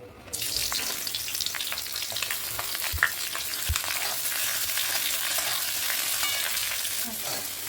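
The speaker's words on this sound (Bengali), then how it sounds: "এই তেলে এখন আমি পেঁয়াজগুলো দিয়ে দেবো।" Onions drop into hot oil in a pan already used for frying paneer, setting off a sudden strong sizzle that holds loud and steady, with a couple of soft knocks from a utensil.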